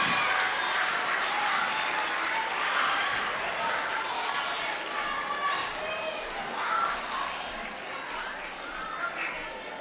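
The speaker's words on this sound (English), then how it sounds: "Let's give them one more big round of applause as they exit the stage." A school assembly audience claps for students leaving the stage after a scholar awards and multicultural celebration, giving steady crowd applause throughout with faint voices and cheering mixed in.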